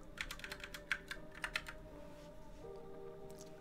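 Typing on a computer keyboard, a quick burst of close key clicks that thins out into a few scattered taps before a quiet pause.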